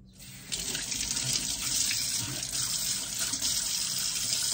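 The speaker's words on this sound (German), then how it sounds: "Dann spüle ich die einfach ab" MTB brake pads are rinsed under a running water tap: a steady, close splashing stream of faucet water into a sink starts after a brief quiet moment and continues alone.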